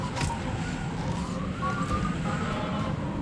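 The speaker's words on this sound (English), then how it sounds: "There's a bunch of sirens going by." Several emergency sirens pass by outdoors, wailing at moderate distance with rising and falling tones over a dense rumble of traffic.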